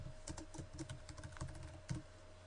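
Keys clack in a quick, irregular run of typing on a computer keyboard while a PowerPoint 2007 presentation title is entered, each keystroke crisp and close against a quiet room with no speech.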